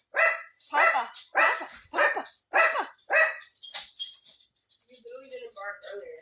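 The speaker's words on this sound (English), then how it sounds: "You literally didn't bark earlier." A dog barks close by in a rapid series of about seven sharp barks, followed by softer whines and yips as the barking trails off.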